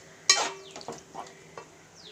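A spoon stirs egg biryani masala in a pan, giving scraping strokes over a steady low sizzle. The first stroke is loud and close, and a few lighter scrapes follow.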